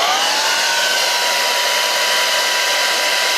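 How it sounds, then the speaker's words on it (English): A hair dryer blowing cold air onto a wig, a loud steady whooshing motor roar that runs continuously and close up. "I'll use my dryer and just put some cold air on it"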